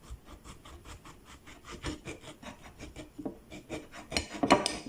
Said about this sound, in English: we will cut the top of the tomato